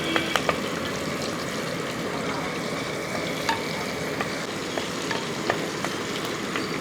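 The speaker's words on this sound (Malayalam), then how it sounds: "ഇഞ്ചി പച്ചമുളക് ഇട്ട് കൊടുത്ത ശേഷം ഒന്ന് ഇളക്കി കൊടുക്കാം" Ginger and green chillies frying in hot coconut oil for a sardine curry, a dense continuous sizzle up close with scattered light clicks of a spoon stirring in the pan, and no voices.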